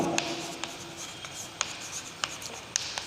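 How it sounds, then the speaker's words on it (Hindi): Marker or chalk on a board during a Class 9 physics lesson on gravitation: a steady soft scratching with repeated sharp taps as strokes begin, close and fairly quiet. "तो अब यहाँ पे लिखते हैं"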